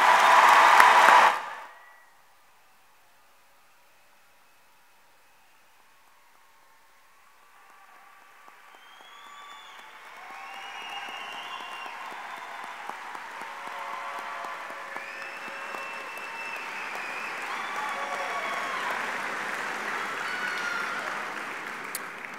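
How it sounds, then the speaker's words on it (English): At a 2023 high school commencement, the audience bursts into a short, loud round of applause for the graduating class. A quiet lull follows, then softer, scattered clapping and crowd noise build back up and carry on to the end. "let's give them one more round of applause as a class"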